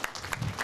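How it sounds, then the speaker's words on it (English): Applause from a banquet audience at a coaches' dinner, a short burst of clapping with no voices, fairly even and moderately loud across the brief moment. "Certainly deserves a round of applause."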